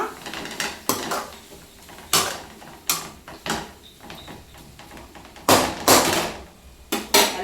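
Cooking pot with tomatoes stirred with a metal spoon, giving sharp clanks and scrapes at irregular intervals, then a lid set down on it with louder clattering knocks, close and without talk.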